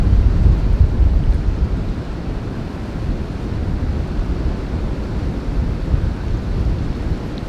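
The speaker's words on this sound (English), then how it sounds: "And these gusts are getting pretty scary" Strong wind gusts roar through woods during a bowhunting sit, a steady heavy rumble with surging peaks and no voices.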